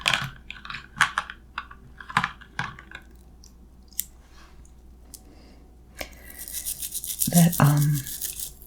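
Keyboard keycaps being scrubbed with a toothbrush, soft scattered clicks and clatter early on, then a steady close bristly scrubbing toward the end, with a quiet soft-spoken voice in places.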